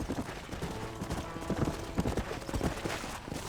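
Horse hooves clip-clop steadily over a busy Red Dead Redemption game soundscape, with a faint whinny and scattered background noises mixed in.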